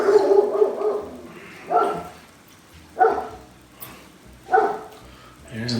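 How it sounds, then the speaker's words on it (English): A dog barks several times in separate bursts spaced about a second apart, fairly close and clear against a quiet room. "There's Lucy barking"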